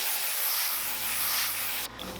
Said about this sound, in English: We're gonna give that a spray. Black.